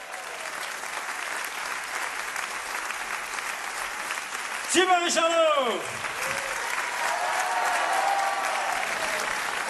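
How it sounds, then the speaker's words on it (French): Sustained audience applause at a live French chanson comedy concert welcomes a performer on stage, a loud continuous wash of clapping from start to end, with an announcer shouting a name over it midway. "je vais vous demander de l'accueillir, mais surtout de l'encourager sous un tonnerre d'applaudissements"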